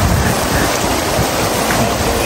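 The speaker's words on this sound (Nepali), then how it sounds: "आज भव्य पानी परेको कारण मेरो फेरि बाढी आएको छ" Floodwater after heavy rain surges past in a steady, loud broadband roar with no break, close by and without voices.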